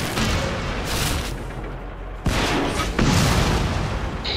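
Artillery fire in World of Tanks, likely from a Priest self-propelled gun: two heavy booming blasts with long rumbling tails roughly a second apart, loud and close over continuous low battle noise.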